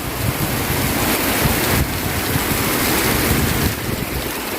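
Heavy rain pours down steadily in a rural Thai setting, a dense continuous wash of hiss and roar with no gaps, loud and close, with no voices over it.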